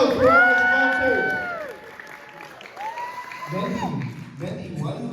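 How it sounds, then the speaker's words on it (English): A crowd at a Siyum HoRambam celebration cheers and whoops with loud, rising shouts, then breaks into scattered clapping toward the end, heard fairly close. "Crowd goes wild for our sponsors"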